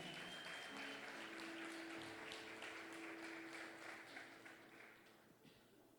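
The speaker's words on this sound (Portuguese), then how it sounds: "Alguém pode aplaudir Jesus aí nesse seu lugar?" Congregation applauding in a church service, a quiet dense patter of many hands, distant and soft, with a sustained tone and ringing pings underneath, gradually tapering off.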